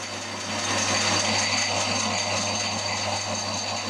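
A lathe face-cutting a metal Classic Mini A-Series engine block, a steady close whir with a bright, hissing scrape held evenly throughout.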